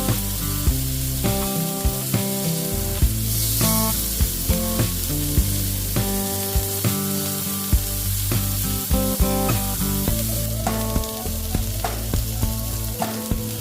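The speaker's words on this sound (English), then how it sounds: "Lay your fillets into the pan and cook on each side for about 3 to 5 minutes." Catfish fillets sizzle in olive oil in a hot pan, a loud, steady frying hiss with crackling pops running throughout, mixed with background music and no talking.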